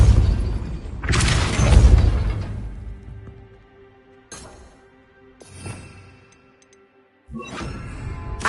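A booming, shattering burst from the Depulso spell in Hogwarts Legacy, followed by quieter ticks and several more sharp impacts spaced a few seconds apart, loud and close with no talking.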